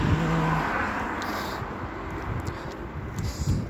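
Road traffic with cars passing, a steady broad rush of tyres and engines at moderate distance, fairly faint and continuous, with no talk over it.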